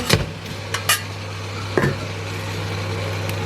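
A spoon stirs wheat flour puttu mix in a steaming pot, giving a few scattered scrapes and knocks against the vessel over a constant low hum, close and moderately loud, with no voices.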